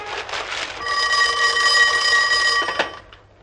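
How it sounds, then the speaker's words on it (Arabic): An old telephone rings with a loud, sustained electric bell trill that lasts nearly three seconds before cutting off, close and alone. "تليفون لك يا حسن بيه"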